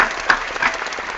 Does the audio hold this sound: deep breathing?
no